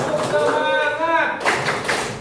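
Classroom group clapping as a spirit cheer: voices chant, then several sharp claps in a loose rhythm follow.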